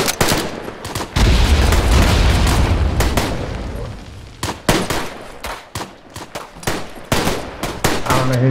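Heavy booms and sharp gunfire from a Tannenberg battle, with deep low thumps early and a string of separate loud reports spaced irregularly through the rest, close and prominent with almost no talk.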